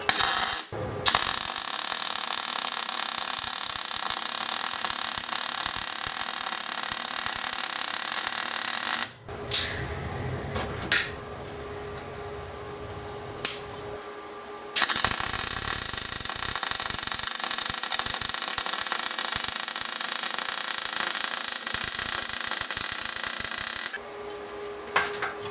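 R-Tech Pro-MIG250-1 MIG welder running 0.6mm wire off a 13 amp supply, laying a lap joint on 2mm steel plate: a steady, dense crackling hiss in long unbroken runs, stopping briefly between beads.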